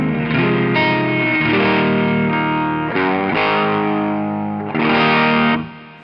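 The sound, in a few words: electric guitar through Strymon Riverside drive pedal, gain at noon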